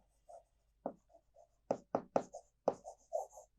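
Chalk or marker writing on a board during a physics lecture: short scratchy strokes and taps come in irregular clusters, close and clear in an otherwise quiet room, with no talking.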